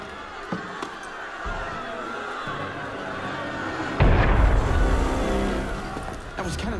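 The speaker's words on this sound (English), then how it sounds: "That was cannon fire." Cannon fire in the Assassin's Creed Unity video game lands as a heavy, close boom partway through, rumbling on for a couple of seconds over an ambient game soundscape with a few faint thuds before it.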